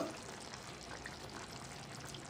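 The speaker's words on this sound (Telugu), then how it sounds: "పులుసు మరుగుతుందండి ఒకసారి మూత తీసి చెక్ చేసుకుందాం" Brinjal tamarind stew with sesame spice simmers in a pot, a faint steady bubbling hiss held close and continuous without talk.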